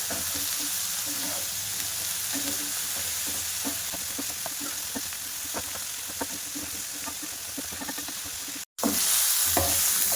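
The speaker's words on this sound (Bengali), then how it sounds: "দিয়ে ভাজা করে নেব আলুটা।" Potato pieces fry in hot oil in a pan, a continuous close sizzle with scattered stirring scrapes and taps, briefly cut out near the end before resuming.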